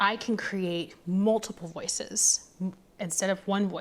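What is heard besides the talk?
No distinct noise like a dog, phone or traffic.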